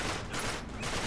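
Continuous gunfire from the video game Uncharted, a dense unbroken fusillade of shots that fills the short moment loudly, with no talk.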